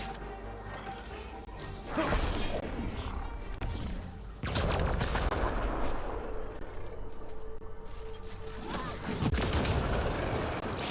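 Gunfire and impacts ring out in the video game Mass Effect: Andromeda, a few heavy booming blasts over a continuous rumbling battle backdrop.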